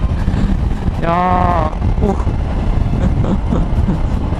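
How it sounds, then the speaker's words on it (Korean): Heavy wind buffeting from a strong crosswind roars across the microphone throughout while riding a 2020 Honda CRF1100L Africa Twin motorcycle at high speed, with a brief voice rising over it near the start. "옆 바람이 너무 세네"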